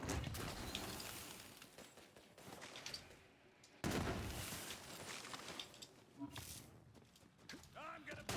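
Transmutator gun firing in a video game, loud dense bursts of gunfire that swell and fade over several seconds with a sharp restart midway, mixed with game effects and a voice talking.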